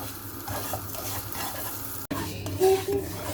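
Sugar is stirred and roasted in a pan for semolina halva, with close scraping spoon strokes over a soft continuous sizzle and a few light clinks against the pan.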